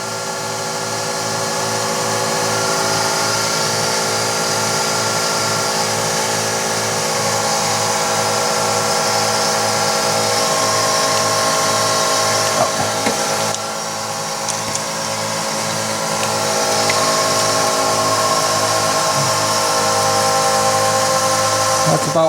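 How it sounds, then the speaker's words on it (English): Twin fuel pumps on a twin-turbo 5.2 Magnum engine build run hard with a steady electric whine and a fast rhythmic pulsing, loud and continuous throughout, with a brief clunk midway. "Here are twin pumps running like crazy."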